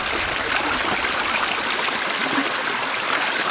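Mountain spring water pours out from beneath a rock in a steady, close rushing babble that stays loud and continuous throughout, with no voices.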